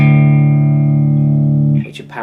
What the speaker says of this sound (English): which are power chords with distortion